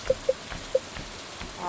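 Gentle rain falls in the farming video game Stardew Valley, a soft steady patter with a few brighter droplet ticks, faint and continuous without any talking.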